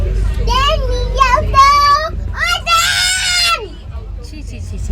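Children scream and shriek loudly aboard a train, with excited high-pitched cries in bursts and a long piercing scream in the middle, mixed with childish chatter close by.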